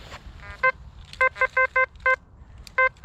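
A metal detector sounds a series of sharp, clipped electronic beeps in irregular bursts, about eight short tones over a few seconds, loud and close above a low outdoor background hiss.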